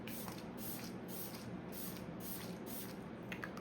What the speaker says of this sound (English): I'm going to spray this yet again all over my face.